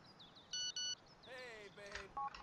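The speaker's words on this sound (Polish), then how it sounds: "Mamy SMS-ka." Text message notification chime from a phone in the video game GTA IV: two short bright electronic beeps, followed by a rising-and-falling tone, another tone, and a final short beep, with a voice speaking in the background.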